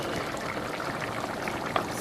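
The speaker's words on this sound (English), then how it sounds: "we're going to let this simmer for about 30 minutes" Coconut curry beef with carrots simmering in a pot on low heat, a soft, steady bubbling and gentle sizzle that stays quiet and even throughout, with no talking.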